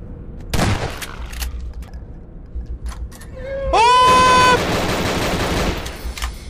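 Gunshots ring out in the horror video game Nightmare House 2, several loud bursts with a ringing metallic tail, mixed with a player's voice and game noise.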